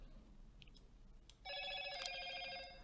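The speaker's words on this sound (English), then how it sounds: "My notifications are going off" A phone notification rings out suddenly and loudly, a bright, steady multi-tone electronic ringing that starts partway through and continues to the end over quiet room noise.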